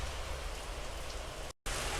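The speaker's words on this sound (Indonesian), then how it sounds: "ini malam Sabtu di tempat saya itu hujan deras gitu ya" Heavy rain falls at night as a steady, dense hiss of drops on surfaces, loud and continuous with a brief dropout near the end.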